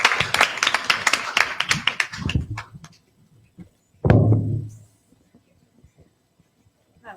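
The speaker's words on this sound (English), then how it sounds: "Give them a big round of applause." Scattered clapping for debate teams at an online showcase, a few hands tapping irregularly and fading within a couple of seconds, then a brief low-pitched burst of noise and near silence with tiny clicks.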